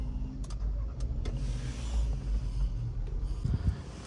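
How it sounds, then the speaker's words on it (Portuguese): A 2025 Volkswagen T-Cross Highline starting up inside the cabin, a brief cranking whir followed by a low steady idle rumble, with a couple of soft clicks near the start and a small surge near the end. "A gente consegue ligar aqui o veículo, ó."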